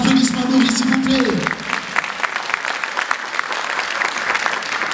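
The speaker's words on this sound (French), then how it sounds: "des applaudissements nourris, s'il vous plaît." A crowd claps in sustained, hearty applause at a film awards ceremony, loud and dense at first with a voice over it, then settling into steadier clapping.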